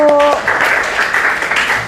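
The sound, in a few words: classroom applause for a presenting group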